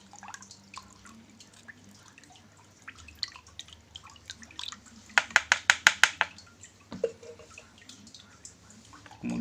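Liquid added drop by drop into a container of water while treating diseased Anubias aquarium plants: scattered light drips, then a quick run of about eight crisp drips in a row, close and clear.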